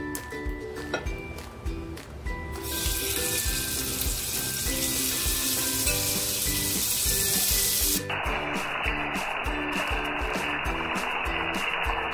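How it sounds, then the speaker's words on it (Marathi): Prawns coated in turmeric and salt fry in a small amount of oil, giving a steady, close sizzle that stays loud and continuous throughout, with a brief watery clatter at the start and no talking. "बघा, अगदी थोडंसं तेल टाकून कोळंबी फ्राय करून घेते।"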